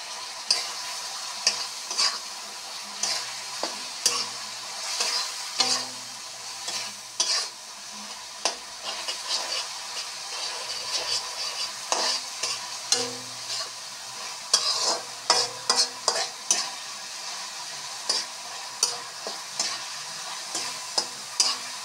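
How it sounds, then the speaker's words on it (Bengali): Spices fry and sizzle in oil for a fish and prawn curry, a soft constant hiss broken by repeated clicking scrapes of a spatula stirring the pan at close range. "সব মশলাগুলো ভাজা হয়ে গেছে, তেল ছেড়ে ছেড়ে আসছে।"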